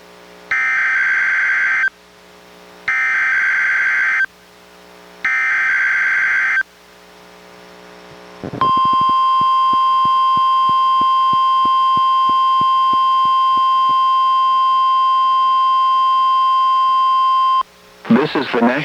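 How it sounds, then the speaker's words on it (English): A NOAA Weather Radio weekly test from the National Weather Service office in Portland, Oregon: three loud, steady electronic bursts separated by short gaps, then a long continuous warning alarm tone that holds for about nine seconds before cutting off. "The preceding was a test of NOAA Weather Radio's warning alarm."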